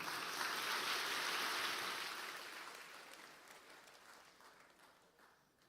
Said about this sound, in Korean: 우리 나오실 때 큰 박수로 환영하도록 하겠습니다.